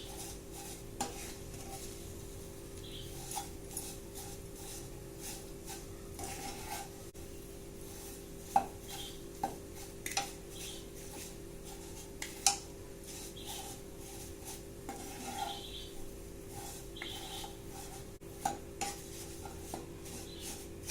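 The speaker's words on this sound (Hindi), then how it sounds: "लगातार सेवई को लटते पलटते रहेंगे" Vermicelli roasting in ghee while being turned constantly, a faint steady sizzle with soft spoon scrapes and occasional sharp clinks against the pan, quiet and without talk.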